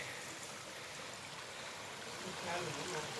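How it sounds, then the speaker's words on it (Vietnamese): A clean mountain stream flows in a steady, even wash of running water, continuous and moderately close with light trickling texture and no break. "Những con suối này rất là trong sạch nhá."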